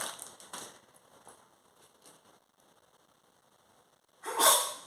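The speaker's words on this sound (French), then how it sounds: "Désolée, un petit éternuement." A woman's single sharp sneeze bursts out near the end, loud and close, after a stretch of quiet rustling and faint handling sounds.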